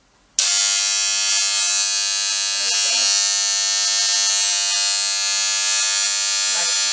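A Legend hair clipper plugged into UK mains through a 45-watt transformer switches on with a sudden loud, harsh buzz that holds steady and dominates, while a voice faintly speaks in the background.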